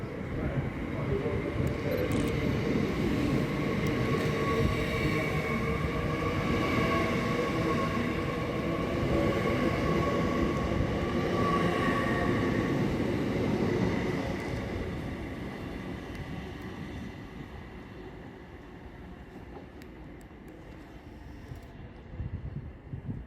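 A train at Newcastle or York station rumbles loud and close for some seconds, then fades and recedes, with a steady tonal hum from the station setting throughout.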